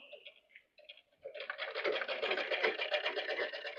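Domestic sewing machine stitching a nightie, with a fairly loud, steady running whir through the second half after a few brief starts.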